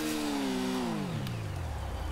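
Video game motorcycle engine revs during a wheelie, a buzzy tonal whine that holds briefly and then slides downward in pitch over about two seconds.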